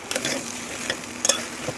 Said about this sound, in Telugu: ఇంకా బెండకాయ కూడా బాగా ఫ్రై చేసుకోవాలి ఒక 5 మినిట్స్ దాకా సిమ్లో.